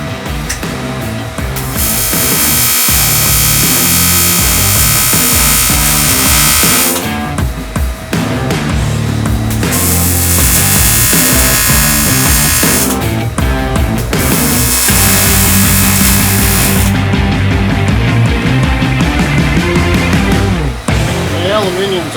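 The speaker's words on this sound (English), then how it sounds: "Aluminium's actually welding pretty clean, which is nice." Cast aluminium being welded for a PC cooler build, long bursts of loud hissing, crackling arc noise separated by short pauses, with a voice speaking in the gaps.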